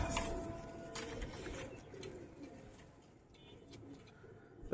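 Giribaz silver pigeons cooing inside a loft, several soft throaty coos repeating close by over faint background rustle and chirps, with no speech.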